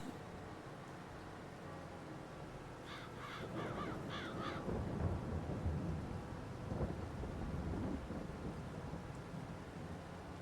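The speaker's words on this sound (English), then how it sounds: "It's starting to rain. Okay. Rain in the game, I mean." Rain and thunder in Farming Simulator, set on a Carpathian farm map: steady rain hiss with a low rolling rumble swelling midway, plus a few crow caws, no speech.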